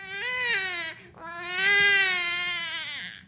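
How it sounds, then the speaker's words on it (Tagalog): An infant cries loudly in two long wailing bursts, with a short breath between them, close and clear and with no other voices. "Parang tama, iyak ng isang sanggol."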